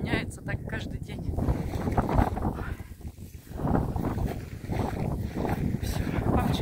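Wind blows outdoors while someone walks toward a farm field, a loud, steady rushing buffet against the microphone that swells and dips throughout.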